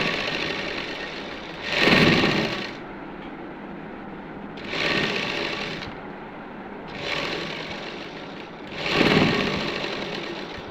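A sewing machine stitches the shoulder seam of a housecoat in four short bursts of rapid whirring, separated by quieter pauses, with no talking.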